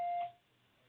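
A single short electronic voicemail beep tone, clean and steady, fading quickly into a quiet phone line.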